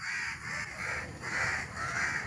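Crows caw repeatedly, a steady run of harsh, rasping calls from birds at a moderate distance with no voices.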